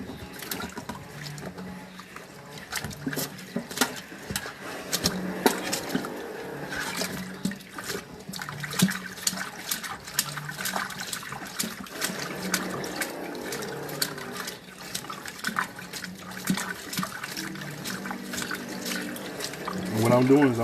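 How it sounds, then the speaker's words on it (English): Water is poured into the inside of a LeBron Soldier V sneaker during cleaning, a steady close-up splashing and trickling that runs for about twenty seconds, with scattered knocks and a louder surge at the end. "What I'm doing is I'm putting water on the inside of the shoe."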